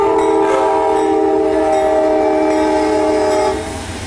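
An Amtrak train sounds its horn in a long, loud, steady blast at a train station, with the rumble of the passing train underneath before the horn cuts off and the noise fades slightly.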